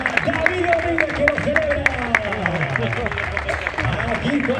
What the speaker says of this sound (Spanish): El aplauso también para David Domínguez